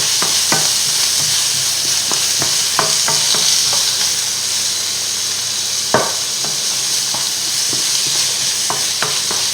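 Carrots sizzle in a hot pan while being stirred, a loud, steady frying hiss close up, broken by frequent sharp scrapes and taps of the utensil against the pan.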